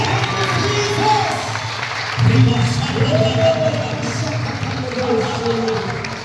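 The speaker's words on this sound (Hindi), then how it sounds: "ताली बजाते हैं यीशु के लिए।" Church congregation clapping for Jesus during a Sunday service, a sustained crowd swell of applause and cheering with a voice speaking over it.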